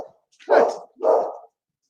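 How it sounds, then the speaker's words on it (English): Pet dog indoors giving two short, sharp barks in quick succession, close and moderately loud, with silence around them. "she just barks at everything she hears outside now"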